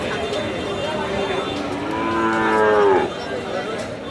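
Sahiwal cattle at a border-area livestock market low with a drawn-out, rising moo near the end, set against steady market bustle and background noise.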